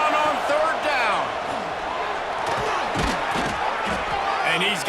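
A stadium crowd in a college football video game roars in a steady, dense wall of cheering and shouting, loud throughout, while excited voices carry over it.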